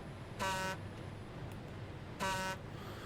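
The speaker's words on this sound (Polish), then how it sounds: "klakson to nie ma za dobry" In the video game SnowRunner, an International Paystar 5600TS truck horn blares twice in short, flat toots about two seconds apart, loud and synthetic over a low engine drone.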